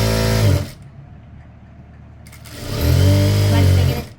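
Electric sewing machine stitching the sleeve hem of a chudithar, two loud whirring runs of rapid stitching separated by a quieter pause.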